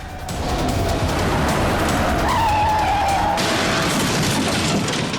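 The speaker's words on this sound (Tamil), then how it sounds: "எவனோ குடிச்சு வண்டி மோதிட்டான்னு நினைக்கிறேன்டா." A car skids with a long tire squeal over loud engine and road noise, as if from a drunk driver losing control, the screech lasting a couple of seconds before the sound settles into continued rumble.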